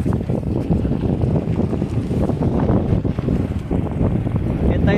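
Strong wind on a rainy roadside buffets the microphone in a steady, roaring rush of noise that continues throughout.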